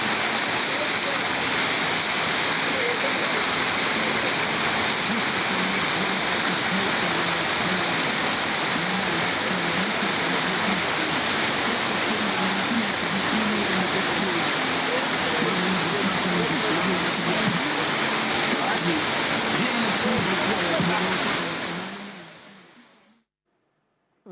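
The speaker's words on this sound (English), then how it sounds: "let's take a look at how events play out in or at the Kintampo waterfall" Kintampo waterfall rushing, a loud and steady roar of falling water lasting almost the whole clip, with faint voices beneath it, before the sound cuts away at the end.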